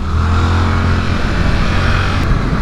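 A Yamaha R7 motorcycle engine pulls hard as the rider gets on the throttle out of a corner on a track, a loud, continuous droning roar that holds steady throughout.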